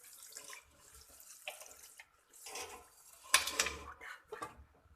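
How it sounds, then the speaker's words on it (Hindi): Water pours into a pot holding ojri tripe and spices, a soft splashing flow that swells into a louder gush near the end, with faint clatter of the vessel. "मैंने इसमें पानी डाल लिया है।"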